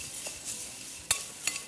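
Nouasser pasta tossed with a little oil in a pan, a soft faint mixing rustle broken by a couple of sharp utensil clicks against the pan, close by, with no voices.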